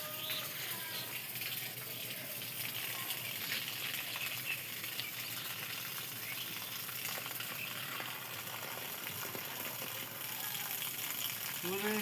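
Water gushes and splashes continuously while a field is irrigated, a steady broadband rush close by with a voice speaking over it.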